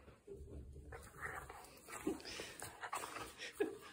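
Puppy whimpering and yipping in short, faint bursts during play, with soft breathing and small movement noises close by.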